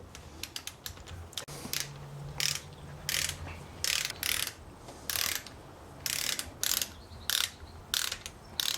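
Wrench ratcheting as snowmobile engine bolts are tightened in a two-step pattern during a rebuild, 13 then 25 pound-feet; bursts of quick mechanical clicking repeat in a steady rhythm, close and fairly quiet, with no talk.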